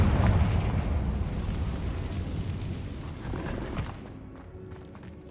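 Confringo blasting spell in the Hogwarts Legacy video game, a deep booming explosion that rumbles loudly and then fades into a lingering tail of debris and crackle.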